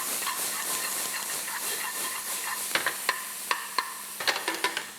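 Vegetables with nduja sizzle steadily in hot oil in a pan, a continuous hiss broken near the end by a run of sharp pops and crackles.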